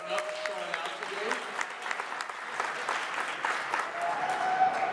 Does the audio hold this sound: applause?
yes